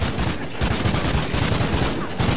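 Rapid automatic gunfire in Call of Duty: Ghosts on Xbox One, loud dense bursts of shots rattling almost continuously, with only short gaps between volleys.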